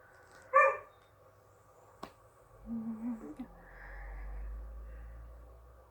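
A dog barks once sharply at a distance, then a knock and a couple of muffled low yips follow, with a faint low rumble underneath in an otherwise quiet room.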